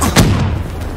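A grenade explodes in Call of Duty Black Ops III multiplayer, a loud booming blast with a heavy low thump that rolls off over about a second of battlefield noise.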